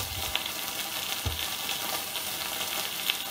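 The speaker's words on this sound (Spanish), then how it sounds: "les daremos una vuelta a los pimientitos, que siempre pasaditos por la sartén están mucho más ricos" Small peppers fry in oil in a skillet, giving an even, continuous sizzle at moderate level with a few soft clicks and pops.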